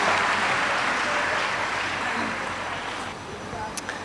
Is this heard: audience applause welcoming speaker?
yes